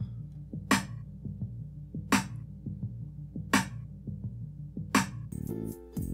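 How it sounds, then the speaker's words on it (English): Electronic snare drum hits in a beat over the pitched-down Stranger Things synth arpeggio, four crisp snaps spaced evenly across a steady low pulsing pattern, no voices. "So for now, I have this little snare sound."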